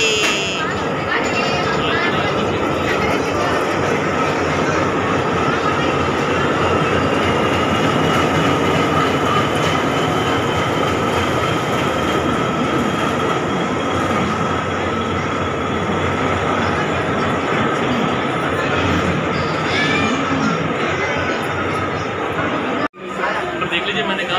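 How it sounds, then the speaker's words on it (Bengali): The Shri Shakti Express rumbles steadily into a busy station on the New Delhi to Katra route, a loud continuous roar with a sustained tonal hum, crowd chatter underneath, and a brief cutout near the end. "এই যে আমাদের ট্রেন আসছে শ্রী শক্তি"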